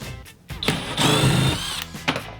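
A power drill runs in short bursts during a camper van build, a brief whir rising into a louder sustained grind and then dropping away, close by with no talk over it.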